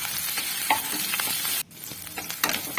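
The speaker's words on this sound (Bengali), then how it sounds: "নিয়ে আমি সবগুলি ভালোভাবে নেড়ে নেব। আর দিয়ে দিচ্ছি আমি আদা রসুন বাটা" Green chillies and ginger garlic paste being stirred in a hot pan, with a constant oily sizzle and scraping spoon strokes that briefly cut out before frying resumes, no voices.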